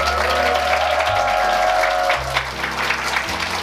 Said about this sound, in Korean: 여러분의 따뜻한 박수를 받으면서 시작하니까 일단 기분이 편안하죠